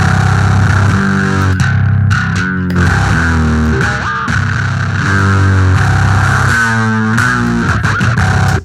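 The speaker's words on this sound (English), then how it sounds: "it's got the whammy pedal and it's got the octave on there" A heavily distorted bass guitar through whammy and octave effects, with a doubled octave tone, plays gliding, sliding notes, loud and continuous, ending abruptly.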